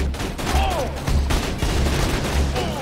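An automated turret in Borderlands 2 fires repeated bursts of gunfire, close and loud, with choppy rhythmic volleys over game sound effects.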